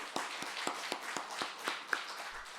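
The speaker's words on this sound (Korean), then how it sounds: "우리 모든 분들을 축하하는 의미로 같이 한번 박수 한번 하도록 하겠습니다." A church congregation in Korea clapping together during a Sunday worship service, a steady rhythmic series of sharp claps at a moderate distance, fairly quiet and without voices.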